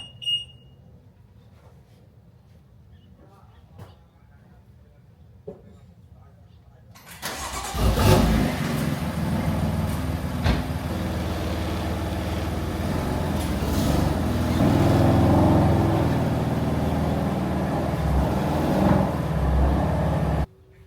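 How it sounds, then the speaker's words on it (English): A BMW F80 M3 starts up in a garage and idles loudly as it is moved a short way behind a Jeep, its steady engine roar swelling slightly midway after a quiet stretch with faint clicks and muffled speech. "I'm gonna go ahead and move the F80 just a little bit behind the Jeep"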